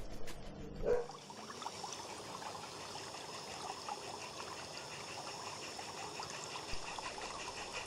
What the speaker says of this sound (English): We pass alongside the River Gowie as it tumbles down towards the mill at Peckforton